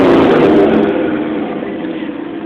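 A Ford pickup truck's 302 V8 engine revs and holds a loud, rough, deep rumble at close range for a couple of seconds before the throttle shifts at the end.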